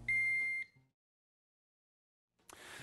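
A Megger MIT400 insulation tester sounds its warning buzzer, a steady electronic tone lasting just over half a second, followed by silence and then a burst of hiss.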